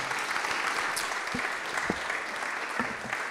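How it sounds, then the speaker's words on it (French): An audience at an evening talk on circular digital economy applauds three speakers, a fairly quiet, steady patter of many hands with a few faint voices or knocks beneath it. "on peut les applaudir effectivement"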